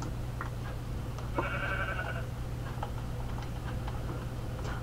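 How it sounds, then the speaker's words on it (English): A single sheep in the Minecraft video game gives one short bleat, heard against light ticking and clicking game sounds, with no talking. "Go away, sheep!"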